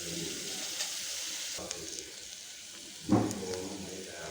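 Onions frying in a pan for a sprouts biryani: a steady soft sizzle with a brief clatter of stirring near the end, quiet and close.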